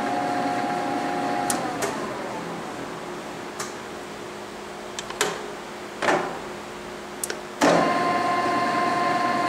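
A Tominaga radial arm drill press, 5 ft by 17 in, with its spindle running at a steady mechanical hum and whine, several sharp clicks and a shift to a slightly different running tone near the end.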